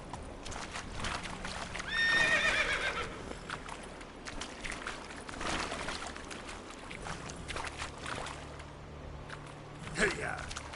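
Roach, the horse from The Witcher 3 video game, lets out a clear whinny early on, then clip-clops steadily along amid game ambience, with another brief snort near the end.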